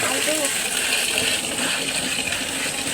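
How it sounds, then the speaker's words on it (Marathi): Tap water running steadily in a village outdoor cooking spot, a continuous broadband gush with splashing throughout, while a person talks over it. "ते नळ चालू कर ना पाणीसाठी जरा."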